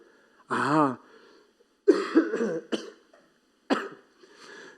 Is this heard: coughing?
yes